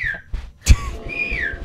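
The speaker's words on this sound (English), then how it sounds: "I don't think we should be whistling" A player's avatar whistles in the Backrooms horror game, two clear sliding tones separated by a short thump, close and fairly loud against a dim background.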